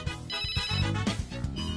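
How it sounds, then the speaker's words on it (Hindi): Mobile phone ringtone sounding for an incoming call, a melodic repeating tone played clearly at moderate volume with no talk over it. "फोन आ रहा है मियाँ का"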